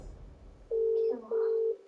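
Two clean telephone dialing beeps, each about half a second long with a short gap between, sound close and clear over a quiet, faintly humming background.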